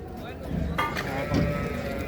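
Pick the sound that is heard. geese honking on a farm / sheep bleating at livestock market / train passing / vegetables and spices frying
sheep bleating at livestock market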